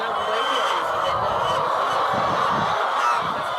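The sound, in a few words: hens clucking in a poultry farm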